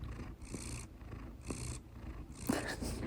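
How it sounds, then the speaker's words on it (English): A pet cat purrs softly and close, a low rhythmic rumble that swells and fades with each breath, three or four cycles in quiet indoor air. "But she is purring."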